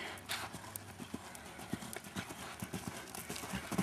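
A horse canters, its hooves thudding in a quick rolling three-beat rhythm on an arena surface during a riding lesson, close and steady with faint background noise and no clear talking.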